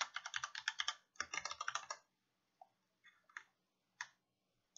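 Fast bursts of key clicks from typing text on a computer keyboard, two dense runs followed by a few scattered isolated taps, close and clear with no talk.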